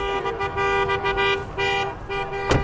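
Car horns honk in steady tooting bursts at a class of 2020 graduation drive-by celebration in Monte Vista, with a sharper honk near the end.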